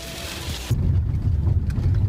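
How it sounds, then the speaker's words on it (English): Hail pelts down on an Irish farm, a dense steady rattling roar that starts abruptly and stays loud and close, with no talk over it. "Hailing."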